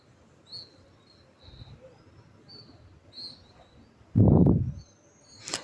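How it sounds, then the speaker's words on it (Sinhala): Small birds chirp in short, high, scattered calls during hot weather, faint and somewhat distant, with a loud low thump of nearby handling noise breaking in partway through. "මේ කුරුල්ලෝ සීත කාලේට නෑ. රස්නේ කාලේට තමයි එන්නේ."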